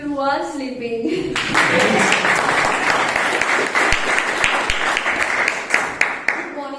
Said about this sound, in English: Let's have another round of applause for people who are sleeping.